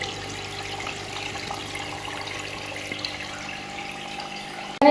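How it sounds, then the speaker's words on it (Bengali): Water flows steadily through aquarium filters, including sponge and canister types, making a constant soft trickling and splashing that continues evenly with no talking. "তো এখানে এই জলটা আসছে, তারপরে এখানে জলটা রিফাইন হচ্ছে, দিয়ে এখান থেকে গিয়ে ভালো জলটা ওইখানে গিয়ে পড়ছে।"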